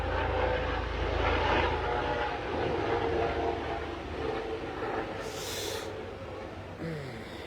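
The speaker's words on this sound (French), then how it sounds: "Je laisse passer l'hélicoptère." A low, steady rumble from a helicopter overhead fills the air for several seconds, with a couple of brief higher noises near the end and no speech.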